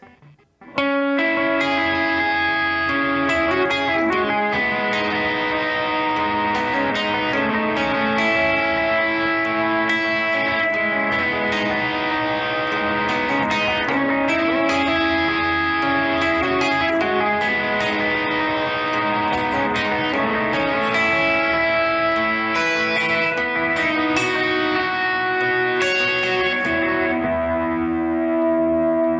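Electric guitar through thick overdrive playing a bouncy, percussive riff with a single-repeat delay trailing each note, steady and loud throughout without any voices.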